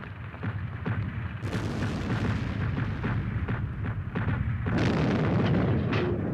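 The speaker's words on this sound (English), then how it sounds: "The thunder of the guns was audible in London, 180 miles away." Continuous barrage of World War I artillery guns at the Somme, dense rolling booms and rapid overlapping detonations at a rate of nearly three shells a second, loud and sustained with no pauses, growing heavier toward the end.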